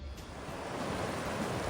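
Steady broadband rush of Ohio River water flowing past a spillway near Goose Island at the Falls of the Ohio park, a continuous even wash with no voices.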